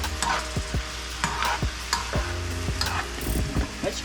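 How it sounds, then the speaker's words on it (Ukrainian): Food sizzles in a hot pan while a utensil stirs and scrapes, with repeated clicks and clatters over a constant frying hiss. "Мішаємо його смажити."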